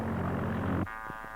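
The small Wankel rotary engine of a scale model buzzes steadily for under a second, then cuts off abruptly, leaving near quiet.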